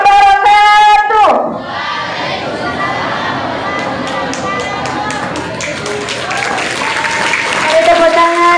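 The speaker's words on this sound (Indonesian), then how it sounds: "Tepuk tangan yang meriah" An audience claps at a morning Ramadan lecture. A loud voice at the start gives way to sustained dense applause with crowd noise and voices mixed in.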